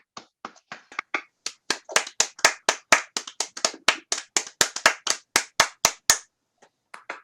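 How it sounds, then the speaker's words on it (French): Individual claps come over open microphones from online participants, a sparse, uneven patter of separate sharp claps, close and distinct, that tapers off near the end. "je propose que nous ouvrions nos micros pour une première salve d'applaudissements qui sont bien mérités"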